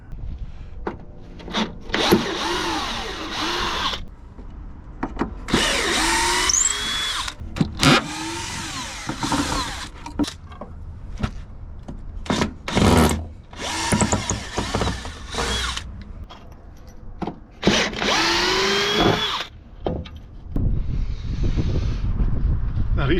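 A power drill backs screws out from underneath a wooden deck railing, with repeated whirring bursts, rattling and wood-rubbing scrapes broken by pauses, loud and close.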